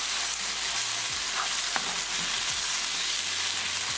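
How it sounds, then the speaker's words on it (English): Air-fried eggplant being mixed and mashed with tomatoes and tomato sauce for baingan bharta, giving a steady close frying-like hiss with soft stirring and scraping, no talking. "Mix it well"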